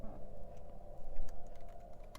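Keys clatter on a computer keyboard during a Stellaris game session, an irregular run of quick, close clicks and taps over a steady low background hum.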